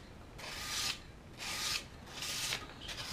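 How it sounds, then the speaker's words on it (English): A straight razor blade is hand-sanded with 320 grit sandpaper, giving three long, even rasping strokes in a steady rhythm, close and fairly soft. "we're just going to start out with a 320 grit right here"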